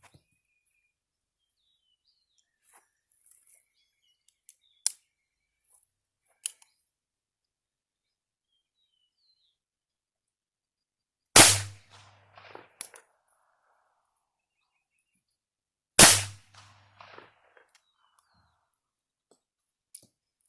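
Two sharp, loud .22 LR gunshots, several seconds apart, from a Ruger LCP 2 Lite Rack pistol and a Bond Arms Roughneck with a 2.5-inch .22 barrel, outdoors among faint clicks and handling noises.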